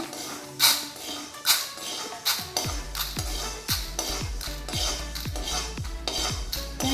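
Coconut is stirred and roasted in a pan for a homemade munthiri kothu sweet. A spoon scrapes and clanks against the metal in a steady, repeating rhythm, close and fairly loud, with a low hum underneath and no talk.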